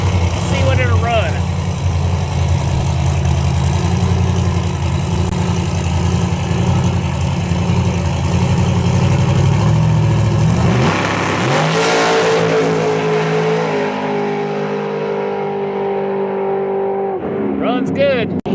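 A carbureted, supercharged blower drag race car at a drag strip during IHRA testing, its engine loud and rumbling at idle before the revs rise sharply and surge, then settle, with a brief blip near the end.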